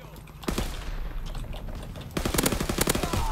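Call of Duty WW2 M-38 fired from the hip: a quick burst near the half-second mark, then a sustained fast rattle of automatic gunfire in the final second, loud over game ambience.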